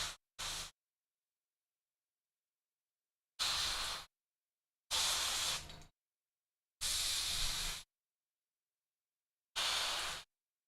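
An airbrush spraying blue paint onto a Warhammer miniature in short hissing bursts, five or six separate sprays of about a second each, separated by silence, close and fairly faint.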